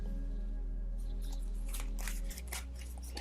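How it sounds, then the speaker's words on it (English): Tarot cards shuffled and flicked by hand in a quiet room, a rapid burst of crisp papery riffles and snaps over a steady low electrical hum, close and fairly soft. "I want to pull out 2 more cards just to clarify."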